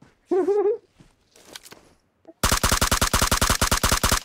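In PUBG Mobile, a brief voice and faint shuffling give way to a loud, fast burst of gunfire, a rapid run of sharp, evenly spaced shots lasting nearly two seconds.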